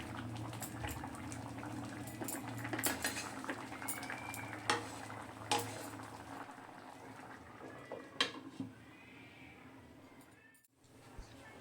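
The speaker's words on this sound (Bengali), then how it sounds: "আবারও আমি এটা ঢাকা দিয়ে দেব।" A metal lid clatters onto a pot of oats khichdi cooking on the stove, with sharp clinks of utensils over a steady low simmer and soft stirring.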